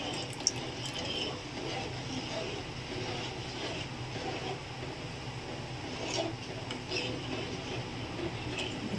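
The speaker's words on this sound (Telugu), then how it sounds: "వాటర్ వేయాలి." Water pours into a pot of rice flour mixed with cardamom powder for changabella payasam, a faint, steady trickle and splash running for several seconds against a low kitchen hum.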